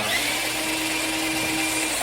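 A Makita battery-powered drain auger runs steadily in reverse, retracting its cable with a continuous motor whine and mechanical whir, loud and close, with no talking.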